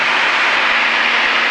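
Aerobatic airplane engine in flight, a loud continuous broadband roar with no breaks, heard up close from inside the aircraft.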